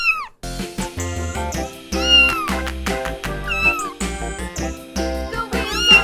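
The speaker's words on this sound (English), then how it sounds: "Cat." A cat meows repeatedly in clear, high drawn-out calls, close and loud over a steady backing of children's music.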